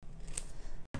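Scissors trimming a flower stem for a decorated wedding sign, a single quiet close snip over faint background noise.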